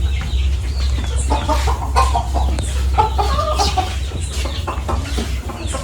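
Golden Laced Wyandotte chickens cluck steadily inside a coop, a close, busy chatter of overlapping short calls over a constant low background hum.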